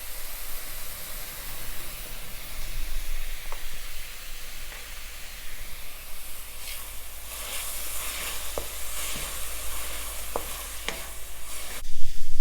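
Chopped fenugreek leaves with salt sizzle steadily while being sautéed in a pan, with a continuous frying hiss and occasional scraping stir clicks, growing louder at the end.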